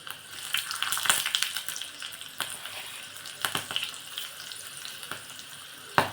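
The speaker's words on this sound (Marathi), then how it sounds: "जिरं तडतडलं की लसणीच्या सुद्धा टाकायच्या एक पाच सहा लसणीच्या पाकळ्या टाकून घेतल्या एक लाल मिरची" Five or six garlic cloves and a dried red chili fry in hot cumin tempering oil, crackling and sizzling up close with irregular pops that rise and fall.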